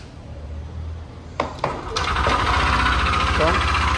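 A Yamaha Nmax motorcycle (2021 or later) with a connecting-rod noise fault: the engine starts after a couple of sharp cranking bursts, then settles into a steady, loud idle hum close by, with no talk over it.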